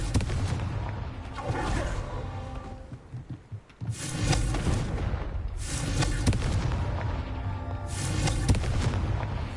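Spell blasts in the video game Hogwarts Legacy: a fire spell cast during a Merlin trial, loud booming bursts with a crackling rumble, repeated several times over about ten seconds against continuous game sound.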